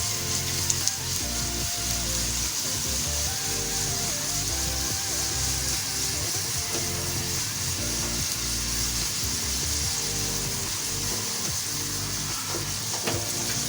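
Eight to ten whole red chillies fry in hot oil with light-brown onions for a tempering, a loud, continuous close sizzle and crackle that stays steady throughout with no talking.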